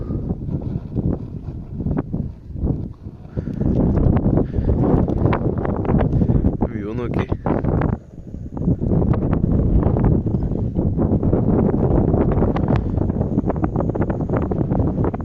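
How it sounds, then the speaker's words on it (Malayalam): Strong wind buffets a solo mountaintop campsite and its tent, roaring and gusting loudly throughout with brief lulls; a voice speaks a few words. "ടെൻ്റ് അവിടെ നല്ല രീതിയിൽ കാറ്റ് പിടിക്കുന്നുണ്ട് കേട്ടോ."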